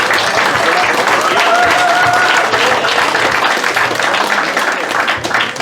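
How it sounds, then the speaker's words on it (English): Loud, sustained applause from a crowd at an award celebration, dense clapping that holds steady for several seconds before easing slightly at the end. "give him a big round of applause again for that"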